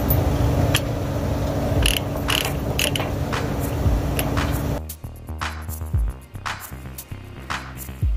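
A ratchet binder on trucking equipment is cranked tight, giving a series of close, sharp clicking ratchet strokes, steady at first and then more spaced out and distinct as the background quiets.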